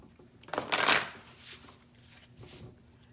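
Tarot cards being shuffled, heard as a few quick crisp riffling bursts, the first loudest, then two softer ones, close and alone without talk.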